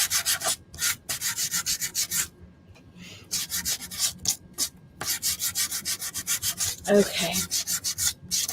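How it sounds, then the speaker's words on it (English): Hand sanding on a DIY gumball machine filler craft gives rapid, rhythmic scratchy rubbing strokes in bursts with short pauses, close and fairly loud, with a brief spoken word. "going to sand it a little bit"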